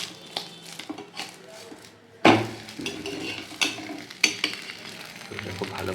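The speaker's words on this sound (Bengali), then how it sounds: "এবার ডিমটা সাইডটা ভাজা ভাজা হয়ে গেছে, এবার এটাকে উল্টে দেবো" A frying egg is flipped over in a hot pan, giving a sudden loud burst of sizzling after a few seconds of quieter frying, then spatula scrapes and a sharp clink as the sizzle settles, heard up close.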